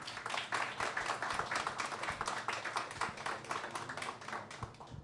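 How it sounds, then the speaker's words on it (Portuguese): An audience at a public talk applauds a panel with steady, dense clapping from many hands, moderately loud and continuous throughout. "E também uma salva de palmas também para o meu painel, que é de facto bastante ilustre."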